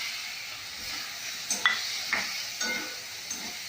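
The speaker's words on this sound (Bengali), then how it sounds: "এবার আমি ভেজে রাখা পটল, আলু আর চিংড়ি কড়াই দিয়ে দিলাম।" Pre-fried pointed gourd, potato and shrimp sizzle in a wok of hot oil and cooked spice paste, a steady bright hiss broken by a few soft clinks and scrapes of stirring.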